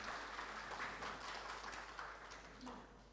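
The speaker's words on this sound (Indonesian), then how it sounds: "Tepuk tangan untuk kita semua." Applause from a seated audience at an Indonesian museum gathering: a dense, steady wash of many hands clapping together, quite faint and distant, continuing evenly throughout.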